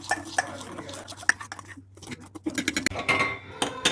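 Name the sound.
stirring raspberry jelly crystals mix in a pot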